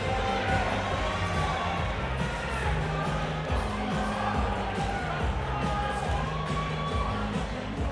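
Loud, dense crowd roar with cheering and whoops at a cage fighting event, Cage Titans XXXII, sustained throughout the clip as the arena erupts before a 130-pound professional catch weight bout.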